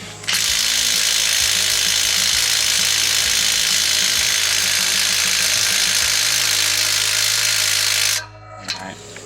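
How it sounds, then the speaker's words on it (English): A 1/2-inch impact wrench works on a wheel stud of a Chevy Express, sending out about eight seconds of loud, continuous, close hammering buzz that then stops abruptly. "This is the 1/2-inch impact."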